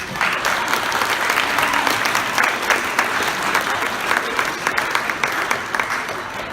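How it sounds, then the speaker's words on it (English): An audience applauds at a college athletics awards night, with dense, continuous clapping from many people in a large room and some crowd noise mixed in. "Let's give a round of applause."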